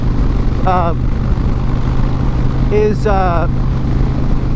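A motorcycle cruises on a highway in sixth gear, its engine giving a steady low drone with wind rush while someone talks over it in short bursts.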